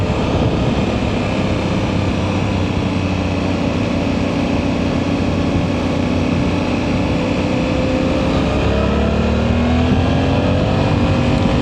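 A Suzuki V-Strom 800 motorcycle engine pulling steadily while riding sweeping mountain curves up to Doi Suthep, Chiang Mai, with a loud continuous drone, shifting revs and rising pitch toward the end, mixed with wind rush.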